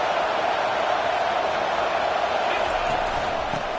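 Football stadium crowd roars steadily behind its defense during a Northwestern game, a dense, continuous wash of cheering under a commentator's voice.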